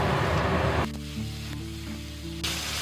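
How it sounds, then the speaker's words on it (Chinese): Pork belly and bacon frying in oil in a wok, a dense close sizzle throughout that eases slightly partway before swelling again, with steady tones running underneath. "锅里来一点油，先把五花肉跟培根放上去，给它炒出油脂。"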